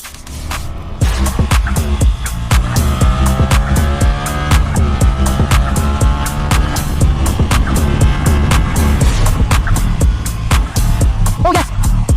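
A Ducati Panigale V4 superbike roars close by on a mountain road in the Dolomites, engine note loud and continuous with rising and falling revs, steady throughout with a rise in pitch near the end.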